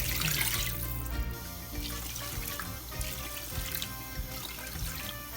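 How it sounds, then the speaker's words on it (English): Water pours steadily from a tap into a pot, a continuous close splashing rush that holds for several seconds without any voices. "So just gonna add water."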